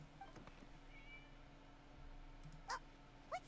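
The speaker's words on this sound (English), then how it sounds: "It was just a cat." Two short, faint meows come from a cat in the video game Genshin Impact, set against a quiet ambient background with a few light incidental sounds.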